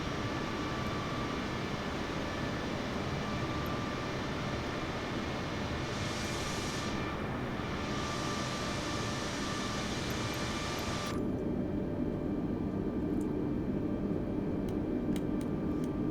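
Airliner engines in Microsoft Flight Simulator 2020, parked at the gate in Malaga, give a steady, loud broadband roar with a whining tone that sweeps in the middle. The roar drops sharply to a lower, quieter rumble as the engines shut down.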